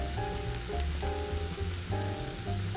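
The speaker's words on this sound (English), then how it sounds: "I'm gonna saute my onions till they get a little caramelized" Steady frying sizzle of onions sautéing in a pan toward caramelized, with bursts of stirring and clinking, close and continuous, no talk.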